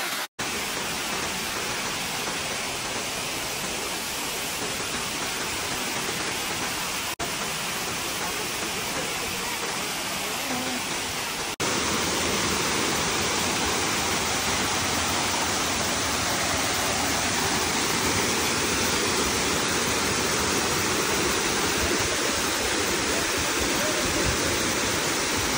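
Kaparpan Falls in Abra pours in a constant, dense roar of falling water, loud and unbroken throughout, with no voices.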